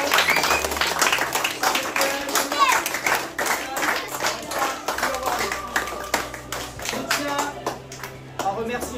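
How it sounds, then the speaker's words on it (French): Clapping from a group at a youth football camp for 11 to 13 year olds, with sharp individual claps over a busy mix of voices and children's chatter, steady and fairly loud throughout. "On va applaudir Jean-Marc Poulain."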